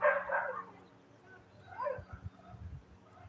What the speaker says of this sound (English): There's a dog that's just not happy.